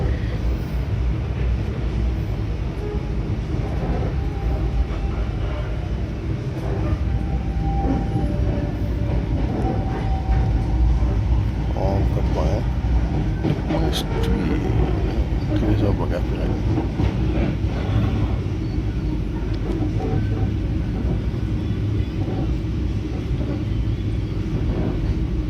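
A long-distance passenger train pulls into Probolinggo station and slows to a stop, a loud steady rumble of wheels and carriages heard from onboard, with voices mixed in.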